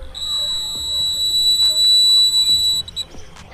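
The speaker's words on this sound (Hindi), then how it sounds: "जैसे मैं दीवार का जितना नज़दीक जा रहा हूँ अलार्म उतना तेज़ी से बज रहा है" A high-pitched electronic buzzer on smart glasses for the blind sounds as the wearer approaches a wall, a loud, steady, close tone that briefly breaks into quicker pulses near the end.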